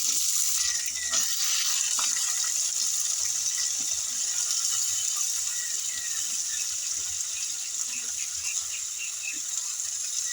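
Vegetables frying in hot oil with tempering spices, dried red chilli and panch phoron, a continuous bright hiss with a few faint clinks and scrapes, no voices.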